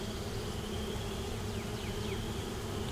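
Honey bees buzz around a hive frame in a steady, dense drone that holds evenly throughout, with a few individual bees passing close by.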